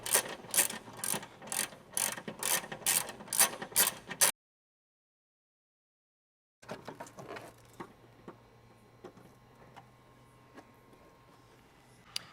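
A ratchet clicks in quick, loud, rhythmic bursts while a relay is mounted on the inner fender of a Toyota Tacoma, then cuts off, followed by fainter scattered clicks and handling noises.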